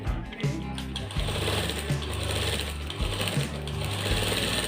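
Close, rapid mechanical chatter of a sewing machine stitching the edge of a shirt sleeve, running in bursts with brief pauses and restarts, and no talk over it.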